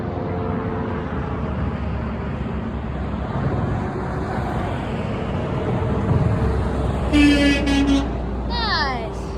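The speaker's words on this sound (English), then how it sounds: "Now more trucks coming." Trucks roll past on a road near railroad tracks with a steady, loud rumble, and a horn sounds near the end in a few sharp toots, with someone talking at times.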